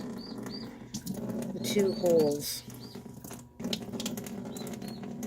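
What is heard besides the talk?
turkey chick in the background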